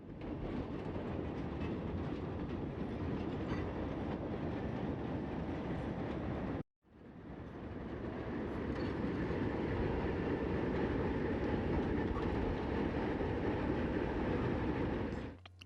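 A Penn Central ALCO RSD-15 diesel locomotive, number 6871, switching cars in Camden, New Jersey in 1974: a continuous loud rumble with rattling clatter, cut off briefly midway, then resuming just as heavy.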